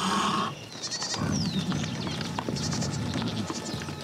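Goats bleating around a livestock farm in a valley, several wavering calls overlapping at moderate distance against a constant outdoor hum.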